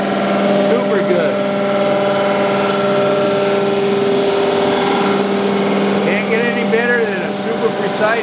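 A grinder works steadily across a Cummins 12-valve diesel engine block, a continuous loud whine with shifting tonal squeals throughout, close and unbroken.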